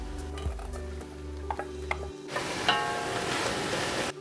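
Chopped apples and celery ribs dropping into a hot pot for Thanksgiving stuffing: a few clinks and stirring taps, then a loud continuous sizzle that fills the second half, with no talk.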